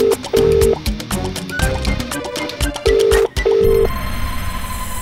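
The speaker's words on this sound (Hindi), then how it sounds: "फोन तो उठाइए संतोष जी, फोन तो उठाइए हमारा।" A telephone rings on and on with nobody picking up, its repeated electronic ring bursts loud and close over a busy musical background in a Hindi television drama scene.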